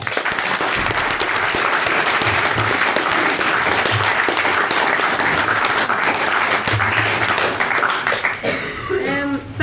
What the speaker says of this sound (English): Can we get another round of applause just for Jessica as well, as her roommate?